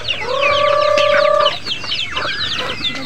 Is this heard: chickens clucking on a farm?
yes